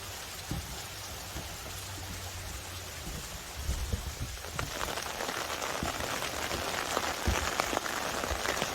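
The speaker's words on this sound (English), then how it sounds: "In the rain." Steady outdoor rain patters across the whole stretch, a dense hiss with scattered louder drops, growing slightly heavier partway through; no voices are heard.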